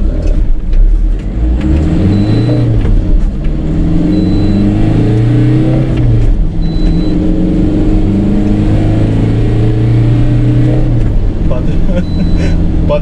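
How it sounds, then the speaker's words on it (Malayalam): A Tata Intra V30 BS6 pickup accelerates toward 60 km/h, its mid-pitched engine droning steadily with rising revs across the whole run, close and loud, and a voice talks over it throughout. "ഞാൻ ഓടിച്ചപ്പം 11 seconds 60 km/h സ്പീഡ് കയറി"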